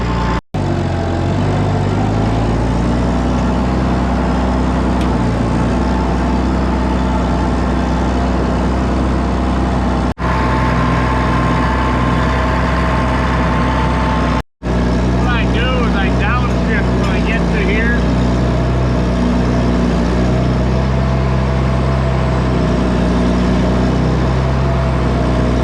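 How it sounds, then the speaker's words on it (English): Tractor engine labouring under load while driving a feed mixer with grain running, a steady loud low drone throughout, briefly cut near the middle, with occasional speech over it. "you can tell it's really working this tractor."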